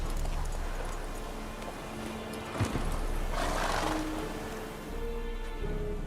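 Horse hooves and a whinny from a galloping horse in The Witcher 3 video game, heard under steady game music with a brief louder thump midway.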